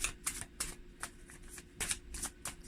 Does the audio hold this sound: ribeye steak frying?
no